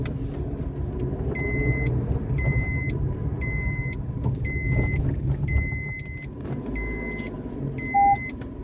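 A Maruti Suzuki Alto K10 drives along with a steady low engine and road rumble, while a repeating seat-belt warning chime sounds in short regular bursts over it.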